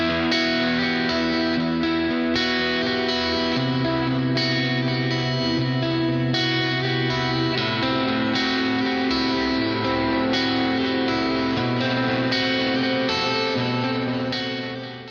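Electric guitar through a full Bare Knuckle Silo humbucker pickup, played clean with heavy effects, a warm, glassy tone with distinct notes washed in echo, reverb and chorus, loud and continuous with no talk.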